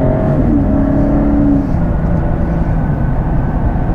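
A 2021 Mercedes-Benz GLS 450 4Matic SUV accelerates with a steady, loud engine and road drone heard from inside the cabin, and a rising tone fades after the first couple of seconds.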